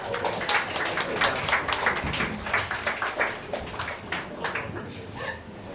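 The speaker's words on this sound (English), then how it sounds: "please give it applause" An audience at a stand-up comedy show claps, a busy spatter of hand claps that holds steady for several seconds and then fades away.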